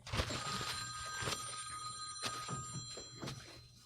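A telephone rings repeatedly with a bright, bell-like trill, fairly quiet and in the background of a podcast setting, with no voices over it.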